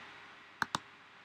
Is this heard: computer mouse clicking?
yes